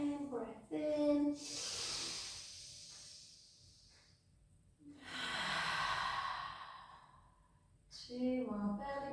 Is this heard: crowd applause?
no